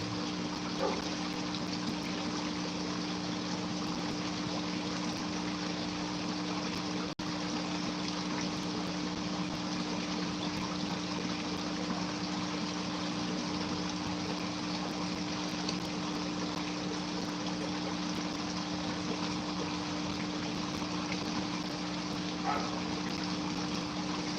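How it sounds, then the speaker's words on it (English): A small waterfall spills into a backyard pond that had partly frozen, making a continuous close rushing trickle with a low steady hum beneath it. "can y'all hear the waterfall?"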